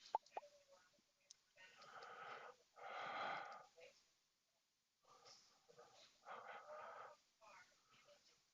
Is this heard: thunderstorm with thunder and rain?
no